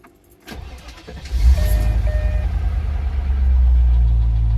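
A Land Rover Discovery 2 engine cranks briefly and fires up, then settles into a steady, loud, close idle with a low rumble and faint ticking, and no one speaks.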